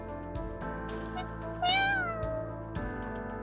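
A cat in the video game Aether Gazer gives a single clear, rising meow in the middle, set against a soft background of game music and ambience.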